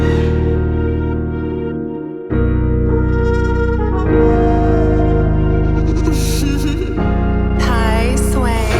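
Layered melodic beat with trumpet and tremolo violin parts over deep bass, a dense sustained mix that shifts chords every couple of seconds, loud and full.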